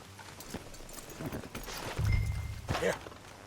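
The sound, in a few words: horse hooves clip-clop, Red Dead Redemption II video game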